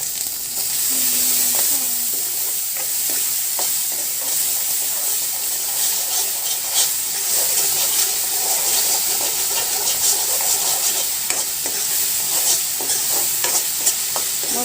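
A paste of tomato and green chili sizzles and hisses loudly in a hot pan with steady stirring and scraping over nearly fifteen seconds, close up and without talking.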